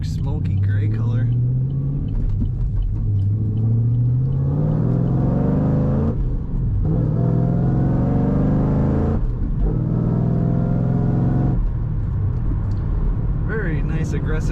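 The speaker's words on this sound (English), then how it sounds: "Very nice aggressive exhaust note on this car." A 2010 Chevrolet Camaro 2SS with a 6-speed manual revs its engine through an aggressive exhaust, rising and falling in several loud, sustained pulls with brief dips between them.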